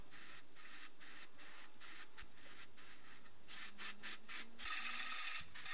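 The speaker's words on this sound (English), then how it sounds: "we need to sand down the rocket. We're using wet and dry to keep the dust down" Wet-and-dry sandpaper rubbed over a rocket body gives close, rhythmic rasping strokes that grow louder and more rapid toward the end, with no voices.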